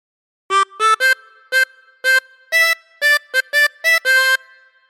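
Harmonica playing a phrase of the tune 10 Green Bottles, about a dozen distinct blown and drawn notes in a clear rhythmic melody, close and clean against silence.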